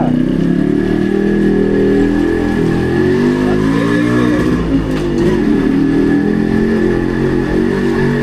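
Motorcycle engine revving loudly and steadily up close as a bike ride begins, a continuous throaty drone with rises in pitch and no talking over it.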